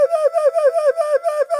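A voice mimics rapid, rhythmic panting in about eight quick breathy pulses, close and fairly loud with no other sound.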